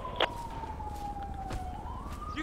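Ambulance sirens in the police video game LSPDFR, a faint, steady electronic wail that sweeps slowly down and back up in pitch, with a brief click near the start and a low drone underneath.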